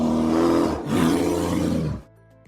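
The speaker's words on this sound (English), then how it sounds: "An American black bear sounds like this." An American black bear gives a loud, rough roar in two long sustained bursts with a brief break between them, then falls quiet.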